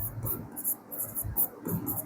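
Scratchy writing strokes on a board in a chemistry lecture come in several short, close bursts, with faint background voice under them.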